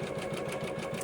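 An embroidery machine stitches freestanding lace for a gingerbread windmill project, a steady, continuous rapid whirring hum with regular needle pulses throughout, close and alone.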